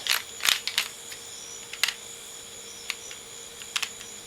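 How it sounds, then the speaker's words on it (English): Torque wrench on a Can-Am Renegade 1000 ATV being adjusted down to 15 foot-pounds, giving a few sharp, close mechanical clicks and ratchet ticks spaced irregularly over a quiet background. "So back my torque wrench down here to 15."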